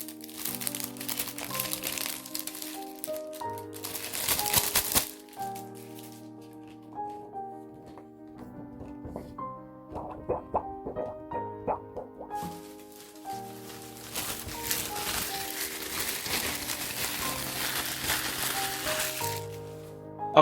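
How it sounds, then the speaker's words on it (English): A plastic screen protector for a 13-inch 2020 MacBook Pro crinkles as it is unwrapped, in two long stretches of close crackling rustle under steady background music. "I'm also unwrapping the screen protector."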